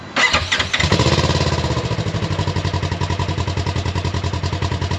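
A 2024 Polaris RZR XP 1000 fitted with a GGB trail muffler cranks and fires up, then settles into a loud, close, rapidly pulsing idle with a steady throbbing exhaust rhythm.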